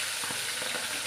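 Fish heads sizzle in hot oil in a wok, a brief, steady, close hiss with faint crackles.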